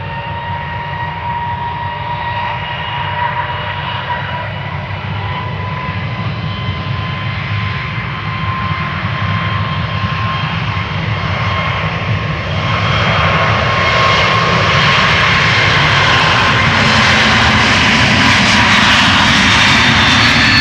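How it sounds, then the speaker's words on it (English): A JetBlue Airbus A321neo departs from Amsterdam Schiphol's Polderbaan, its jet engine roar loud and continuous, swelling steadily stronger over the final seconds as the airliner powers away. "JetBlue flight 632 A321neo going to Boston, Massachusetts"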